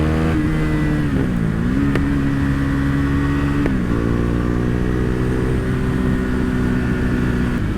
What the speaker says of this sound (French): deuxième chose que j'aime bien, le bruit qu'elle fait avec le Poharo, franchement, c'est du pur bonheur